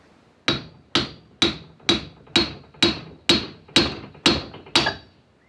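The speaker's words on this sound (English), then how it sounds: "We're probably going to aim for about there with our copper hammer." A copper hammer strikes a suspension ball joint on a Land Rover Discovery 2 in ten sharp, evenly spaced metallic blows, each ringing briefly before the next, close and alone.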